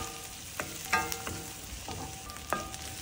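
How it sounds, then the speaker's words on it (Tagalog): Onions sautéing in oil in a pan while cooking Young Chow fried rice, a steady soft sizzle broken by a few sharp scrapes and stirring clatters from a utensil against the pan. "Saute onions until softened."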